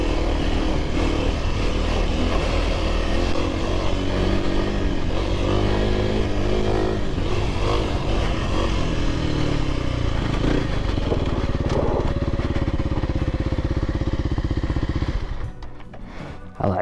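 A Kawasaki KLX300R dirt bike is ridden on a test ride, its single-cylinder engine droning loud and close with throttle surges for most of the run, then dropping away near the end amid wind buffeting.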